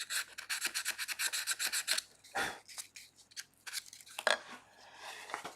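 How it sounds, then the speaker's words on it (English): A small piece of sandpaper rubs over a wooden small box with compound-angle dovetails, giving a quick run of close, brisk rasping strokes followed by a few slower, separated scrubs, near and fairly loud with no talk. "Little piece of sandpaper just to tidy it up."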